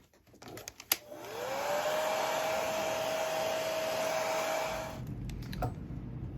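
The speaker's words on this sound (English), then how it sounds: "I'm gonna hit it with the hair dryer again" A hair dryer blows on freshly airbrushed paint on a pumpkinseed sunfish fishing lure, starting after a few clicks and handling noises, then running at a steady, loud whine for about four seconds before switching off.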